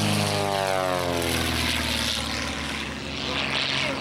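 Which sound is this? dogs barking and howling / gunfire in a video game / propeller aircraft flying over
propeller aircraft flying over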